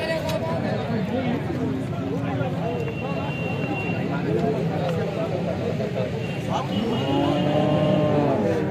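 A black cow at the Alephata cattle market moos in long, wavering calls while other animals bellow. People talk nearby over steady crowd chatter.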